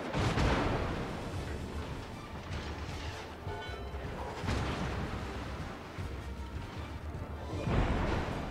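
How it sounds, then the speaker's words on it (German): Naval gunfire in the video game World of Warships: a dense, continuous roar of heavy booming salvos and crashing impacts, with stronger bursts at the start, around the middle and at the end, and no speech. "Schüsse"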